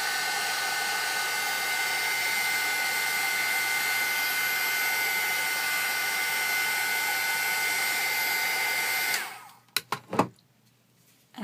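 A hair dryer blows a steady loud close whoosh over Mod Podge on a toilet-paper dress form for about nine seconds, then switches off with a few clicks and thumps before near silence.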